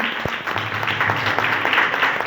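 An audience at a grand Christmas celebration in Secunderabad breaks into steady, dense applause that continues throughout, fairly loud and filling the room.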